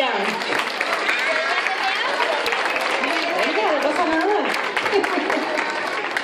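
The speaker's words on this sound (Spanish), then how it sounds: "Vamos a darle un fuerte aplauso a Hugo y a Adrián." Applause from an audience, steady and dense throughout, with crowd noise and cheering voices mixed in.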